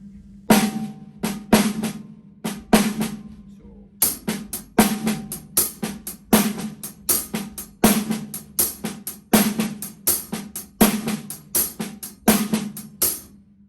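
Drum kit playing a shuffle groove, with soft ghost notes on the snare between loud backbeat hits in a steady swung rhythm, close and clear with no talking.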